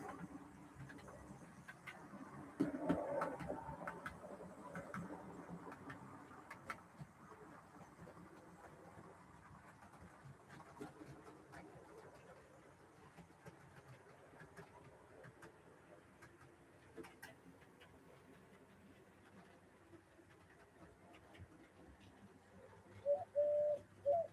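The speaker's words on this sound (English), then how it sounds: "can hear the wood pigeon out there cooing as usual" Wood pigeon cooing outdoors near a garden railway shed, faint and distant behind low background hum, with a brief louder burst of calls near the start and again at the end.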